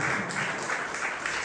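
A church congregation applauds during a sermon, a faint, continuous patter of many hands clapping for a moment.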